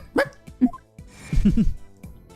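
Cartoonish dog barks and yaps from the Phoenix Wright: Spirit of Justice video game, a few sharp yips up front followed by a denser burst of barking, with small game sounds between them.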